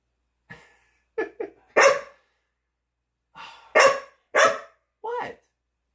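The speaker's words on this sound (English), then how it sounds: "You've been good for 9 nights in a row, and you're going to bark tonight?" A golden doodle dog barking indoors at night, a scattered series of sharp, close barks and yips in two bursts, with a person talking in between.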